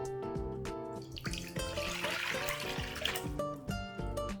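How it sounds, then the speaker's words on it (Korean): Water pours steadily into a pot for tteokbokki sauce, a close, continuous gurgling stream with splashy bubbling and some clinks, running throughout with no speech. "일단 물 4컵"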